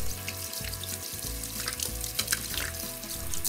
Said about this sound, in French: Une fois cela fait, on se lave les mains bien sûr.